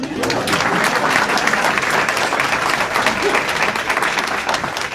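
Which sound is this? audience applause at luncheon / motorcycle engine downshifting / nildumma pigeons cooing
audience applause at luncheon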